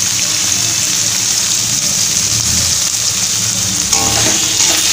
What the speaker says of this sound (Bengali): এটাকে একটুখানি হাই ফ্লেমে ভাজা ভাজা হতে দিচ্ছি